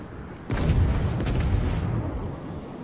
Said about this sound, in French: Là je tire assez rapproché, de manière à avoir tous mes canons disponibles à la prochaine salve.